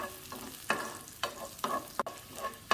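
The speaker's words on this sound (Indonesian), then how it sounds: "Jadi bawang merah, bawang putihnya kita tumis dulu." Shallots and garlic sauté in a pan for Mie Aceh, with a soft continuous sizzle broken by several sharp stirring scrapes at irregular intervals.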